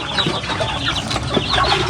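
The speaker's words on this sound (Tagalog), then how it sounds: "Nagpapakain ng mga manok." Chickens clucking at close range as they are fed, a steady jumble of short calls over outdoor background noise at a fish-pond farm.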